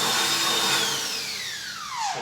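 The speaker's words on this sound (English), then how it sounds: "After we drill you a hole." A power drill bores a hole during a DIY build of a trimmer line spool rack for a trailer, its motor whine falling steadily in pitch as the bit loads up and then winding down near the end.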